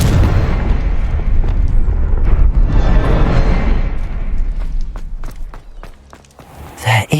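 A Confringo blasting spell is cast in the Hogwarts Legacy video game: a loud, heavy rumbling blast that rolls and fades over several seconds, with scattered debris clatter and a final thud.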